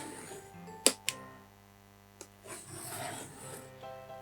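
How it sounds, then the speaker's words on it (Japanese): A utility knife scoring a strip of cheap craft wood along a metal ruler, a few sharp scraping strokes followed by softer rasping passes, close up, over a steady low hum. "ここを、こう何度も何度もカッターでなぞるんですよ"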